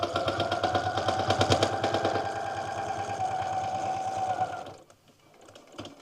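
A sewing machine stitches through quilt block fabric in a steady fast rapid-fire rhythm, loud and close, then stops abruptly near the end, leaving a brief quiet pause with a few small clicks.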